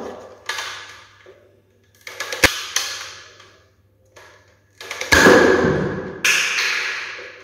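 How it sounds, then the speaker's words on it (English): Zuru X-Shot Turbo Fire toy blaster firing shots with its scope attached, giving sharp mechanical snaps and thuds in a few separate bursts, the loudest near the end, with no talk. "Here's another shot."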